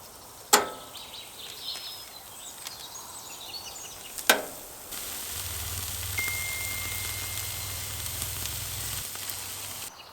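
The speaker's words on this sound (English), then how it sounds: "So all we do next is put them on the barbecue and look at that. Sear them till it's tender." Steak lollipops searing on a barbecue grill: two sharp clacks, then a steady, close hiss of sizzling that rises and holds until the end, with no talking.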